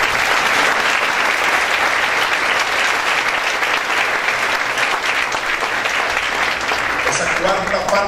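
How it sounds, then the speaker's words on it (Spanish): Congregation at a Spanish-language church service giving a loud, sustained round of applause for the King, a dense crowd clapping continuously that tapers slightly near the end. "Denle otro aplauso al Rey, por favor."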